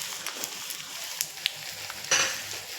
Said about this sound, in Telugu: తర్వాత వేడి నూనె వచ్చేసి కరివేపాకు మీద,